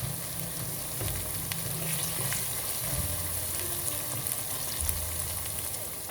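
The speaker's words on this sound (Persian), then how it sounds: "رب رو کامل تفت میدم تا بوی خامی رب گرفته بشه و خوش رنگ و خوش طعم بشه." Tomato paste frying and being stirred in a pan for a barberry rice with chicken sauce, a steady close sizzle with scraping stir sounds throughout, no talking.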